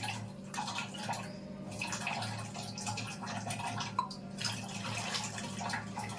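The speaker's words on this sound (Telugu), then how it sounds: "కప్తో టూ కప్స్ వాటర్ పోస్తున్నాను" Two cups of water poured into a pan to melt jaggery for sweet wheat-flour bondas, heard as a steady, soft splashing pour with a faint dull knock partway through.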